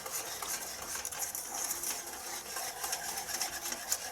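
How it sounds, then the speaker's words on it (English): Cold cream is whisked into melted butter and brown sugar for an apple caramel-pecan pie filling, giving a faint, steady scratchy swishing with quick soft ticks of the whisk. "And I'm just whisking this together."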